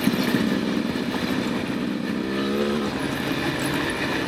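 A Beta 300 RR Race Edition two-stroke dirt bike lugs at low revs while being ridden, a loud, close, steady rough engine drone with a slight pitch change midway and no talk.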